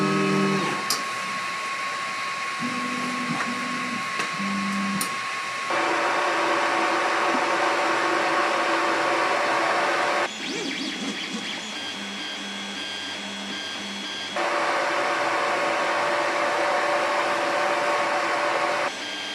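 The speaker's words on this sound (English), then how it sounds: "And you can already tell that the printer is much quieter, however it's nowhere near silent" An Ender 3 V2 3D printer runs with a steady fan whir and stepper-motor whine, its pitch shifting in blocks as the print head moves, fairly loud and close.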